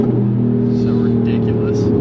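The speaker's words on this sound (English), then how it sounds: "Let's go ahead and rev out right here." A Mercedes-AMG GT R Pro on a country road revs hard, its loud engine note holding a strong steady tone with rising harmonics, close and powerful, with faint voices underneath.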